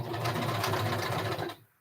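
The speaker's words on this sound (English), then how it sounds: "I was doing some stretch stitching." A sewing machine stretch-stitches fabric on a quarter-inch seam for a headscarf or headband, a fast, steady mechanical whir running close and loud before stopping abruptly near the end.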